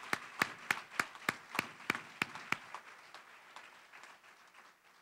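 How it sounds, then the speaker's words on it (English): Slow, even hand claps ring out about nine times with a roomy echo at a convention opening session, then fade into faint scattered clapping. "Please let's give Senator Plant a rousing round of applause."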